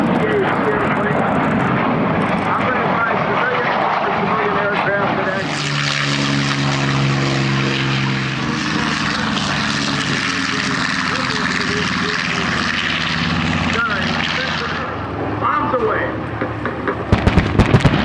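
A propeller airplane flies over the EAA AirVenture airshow, its engine drone rising and holding as it passes, heard under a public-address announcer talking, with crowd bustle throughout and a few sharp bangs near the end.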